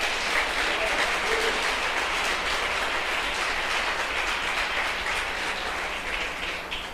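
Steady, loud congregational applause filling a church service, a dense continuous wash of clapping that holds evenly before easing slightly at the end.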